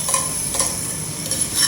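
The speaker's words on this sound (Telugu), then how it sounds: "దీంట్లో కలుపుకోవాలి, బాగా మిక్స్ అయినంత వరకు కలుపుకోవాలి" Ground paste stirred into ridge gourd chutney (beerakai pachadi) frying in a pan makes a loud, continuous sizzle, with a repeated scraping rhythm from the stirring and no voices.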